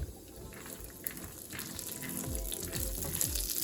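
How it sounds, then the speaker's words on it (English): Raw peanuts frying and roasting in hot oil in a pan, a steady bubbling hiss with scattered low crackles and pops that grow a little busier toward the end. "Now you can hear the oil is seasoning, and you also hear the cracking sound."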